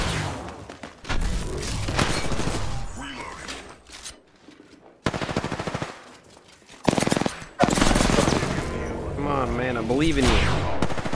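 Incoming gunfire in an Apex Legends match: rapid automatic shots and impacts crackle loudly in repeated bursts, broken by short gaps, with a voice talking over the action.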